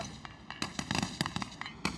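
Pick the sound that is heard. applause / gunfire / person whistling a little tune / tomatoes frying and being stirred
gunfire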